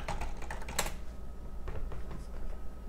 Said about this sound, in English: and I typed the wrong password